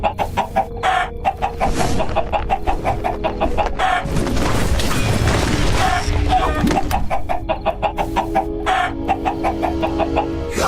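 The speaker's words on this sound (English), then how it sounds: "Chicken. Passive, peaceful creature." Chickens clucking in a Minecraft animation: rapid repeated clucks and squawks, close and loud, over a continuous backing track, with no talking.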